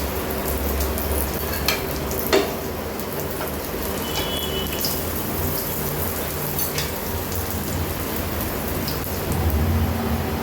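Cabbage vada fry in hot oil, a loud continuous crackling sizzle that stays steady throughout with a few brief pops.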